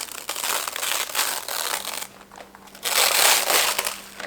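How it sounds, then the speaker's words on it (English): A homemade fruit roll-up is peeled from its baking sheet, giving close crinkly, crackling bursts of peeling with a short pause between them and no talking. "basically you want to be able to peel it away from your sheet"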